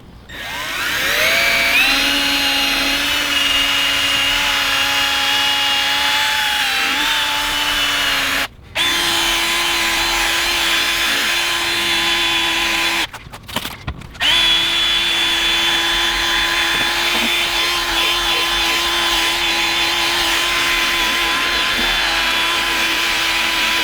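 A power drill spins a polishing pad against a car headlight, a loud steady whine that holds for the whole stretch, broken by two brief pauses where the motor stops and restarts.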